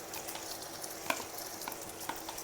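Indian rice with paste being stirred gently in a hot pan, a soft continuous sizzle with light scraping strokes and an occasional clink, close but fairly quiet, no talk.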